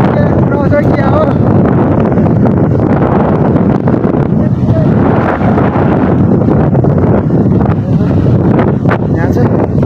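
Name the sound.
strong wind blowing on mountain trail in Manang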